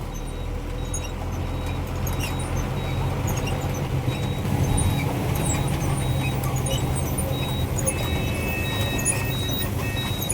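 A coal truck descends a steep ghat road in the rain, its engine rumbling steadily in the distance under a continuous wash of road and rain noise, with no talking.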